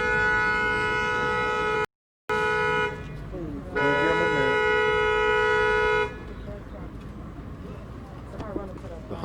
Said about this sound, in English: The honking is in solidarity.